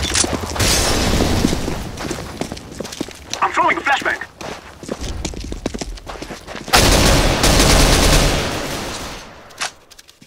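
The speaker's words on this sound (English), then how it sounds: "I'm throwing a flashbang!" Flashbang grenade thrown in a Counter-Strike: Global Offensive competitive match, among busy bursts of gunfire, footsteps and booming game effects, with loud dense stretches and a player talking over parts of the action.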